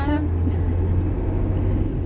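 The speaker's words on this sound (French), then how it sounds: "On vous filme le gros délire de la circulation du soir proche d'Istanbul" Evening road traffic near Istanbul rolls on steadily with a constant low engine drone and road hum, close and fairly loud, without pauses.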